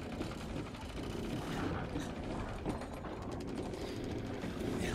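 Crank turning a reservoir elevator in the game Resident Evil Village: a steady, dense mechanical grinding and ratcheting of gears that runs continuously at an even, fairly loud level with no talk.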